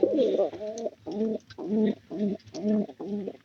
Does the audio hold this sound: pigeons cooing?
yes